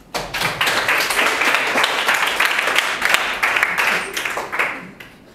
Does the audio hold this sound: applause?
yes